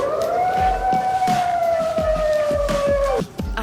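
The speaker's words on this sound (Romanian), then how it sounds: "Poate e doar o mașină cu sirenă" A single siren wails loud and close as a sustained, slightly falling tone that cuts off abruptly near the end, with scattered thumps and rustling underneath.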